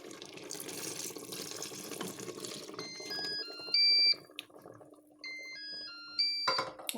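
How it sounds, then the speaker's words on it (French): Marinade for boeuf bourguignon pours into a cooking pot with a close, splashing gush for a few seconds, then a series of electronic beeps from the cooking appliance sounds. "moi je vais ajouter, avant que ça ne prenne au fond, ma marinade."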